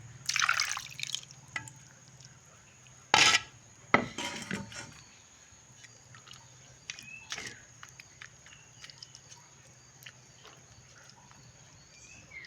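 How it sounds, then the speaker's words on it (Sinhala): Water poured from the paste bowl into a pan of fish for a southern-style Sri Lankan fish curry, heard as a few brief splashes and drips with clinks of the bowl in a quiet kitchen, no talk. "දැන් මම පේස්ට් එක හදාගත්ත භාජනයටම වතුර පොඩ්ඩක් දාලා ඒ ටික තමයි මාළු එකට දාන්නේ"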